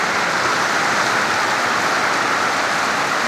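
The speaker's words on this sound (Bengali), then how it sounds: "ভীষণ জোর বৃষ্টি হচ্ছে, তোমরা ফোঁটা দেখেই বুঝতে পারছো বৃষ্টি।" Very heavy rain pounds steadily on a surface outdoors near a parked car, a dense, loud, unbroken hiss of drops with no voices.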